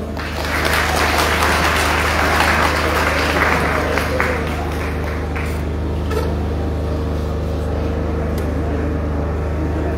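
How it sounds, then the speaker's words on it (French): Sustained audience applause fills a hall at a Comores Télécom event on 5G in the Comoros, a dense, loud clapping wash that holds steady for the full stretch before easing slightly toward the end. "Veuillez l'applaudir s'il vous plaît."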